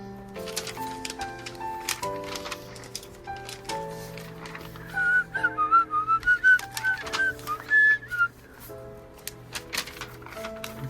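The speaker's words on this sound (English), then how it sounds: "That whistling was pretty bad." Someone whistles a wobbly, off-pitch tune over a soft background melody, the notes wavering and uneven.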